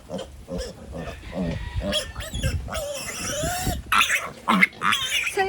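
Native piglets struggle and let out loud, shrill squeals and grunts in irregular bursts at close range, with a person talking among them.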